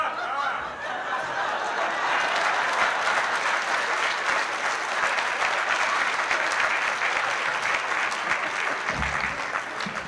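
A political event audience gives loud, sustained applause, a dense wall of clapping mixed with some laughter and crowd noise that holds steady throughout.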